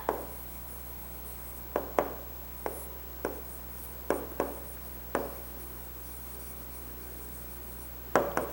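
Pen strokes scratch out the answer to a fourth-grade fractions maths exercise in irregular short bursts, with quiet gaps between them and a low steady hum underneath.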